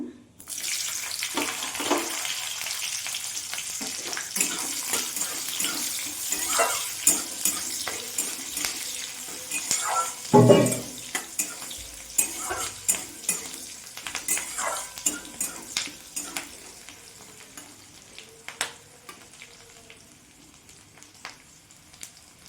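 Onion and then capsicum dropped into hot oil sizzle loudly, with stirring scrapes and clatter of a utensil against the pan throughout.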